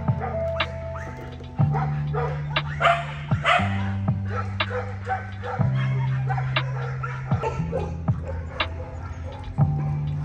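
Small dogs of 15 pounds and under bark and yip at a doggy daycare, sharp repeated barks from several dogs close by, with occasional whimpers and no talk.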